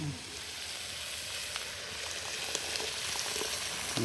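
Ground pepper paste sizzles in frying mutton during outdoor village cooking, a loud, continuous crackling hiss with small pops throughout and a brief voice at the very end.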